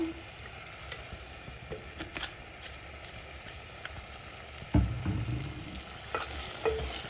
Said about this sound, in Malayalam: നമുക്ക് കുറച്ചുകൂടെ നല്ലെണ്ണ ഒഴിച്ചു കൊടുക്കാം